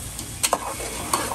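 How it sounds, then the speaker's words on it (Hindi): Chicken pieces fry in a masala base in a pan, sizzling steadily up close while a spatula stirs with a couple of distinct clinks and scrapes. "बिस्मिल्लाह, चिकन डालकर भी हम अच्छी तरह से भून लेंगे।"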